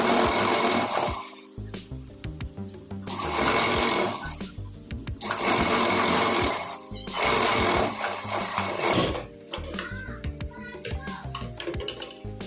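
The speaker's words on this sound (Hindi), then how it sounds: "फिर इस पर सिलाई लगा लेंगे" A sewing machine runs in three loud whirring bursts of about two seconds each while stitching a salwar belt, with quieter fabric handling between runs.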